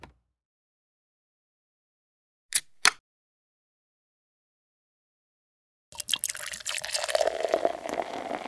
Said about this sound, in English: Maybe we should open up a drink and pour it.